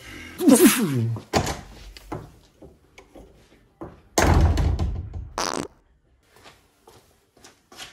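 Hood of a Mercedes E500 W211 being handled, heard as a few scattered thumps, rustles and clunks of metal and hinges, with louder handling bursts near the start and middle, close by and separated by quiet gaps.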